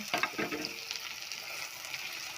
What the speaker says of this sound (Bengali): আদা বাটা, গোটা জিরে, তেজপাতা,